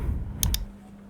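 Two quick clicks of computer keyboard keys while typing in Adobe Acrobat on a desktop, short sharp taps close by, surrounded by quiet room hum.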